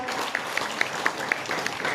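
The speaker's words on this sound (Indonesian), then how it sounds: "Tepuk tangan buat Tuhan kita." Congregation clapping for God at a church sermon, a steady patter of hands with a few sharper claps standing out, moderately loud and continuing through the whole moment.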